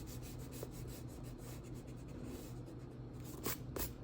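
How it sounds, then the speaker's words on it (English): Eraser rubbing out pencil lines on paper, a faint continuous scrubbing with quick back-and-forth strokes, close and quiet with no talk. "I can go erase these lines."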